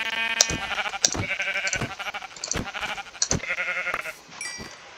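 Sheep in a Minecraft skyblock game bleat repeatedly, wavering calls one after another over several seconds, with sharp clicking game sounds between them.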